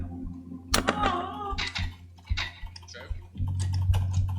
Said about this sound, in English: let's get ready to type